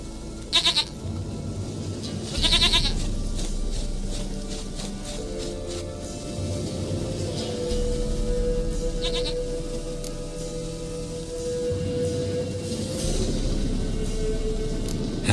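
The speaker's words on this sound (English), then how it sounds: "Goat of mine, dearest, sweetest goat." A goat in The Witcher 3: Wild Hunt gives a few short bleats near the start and again around the middle, heard over a steady game ambience and music bed.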